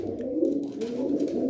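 Pigeons coo continuously in a steady, close, moderately loud chorus as a male courts a female, the low rolling calls overlapping throughout with no pause.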